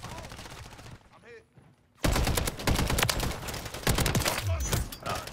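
Rapid battle rifle gunfire in Call of Duty: Modern Warfare, loud sustained volleys of shots after a brief quieter lull, with game effects around them.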